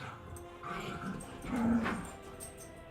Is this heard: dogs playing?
yes